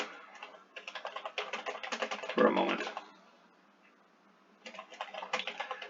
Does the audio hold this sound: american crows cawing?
no